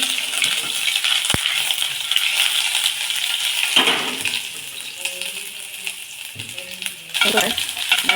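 Cumin and ginger-garlic paste sizzle in hot oil as a tadka for whole masoor dal. The frying crackle is steady, broken by a few sharp clinks and stirring sounds.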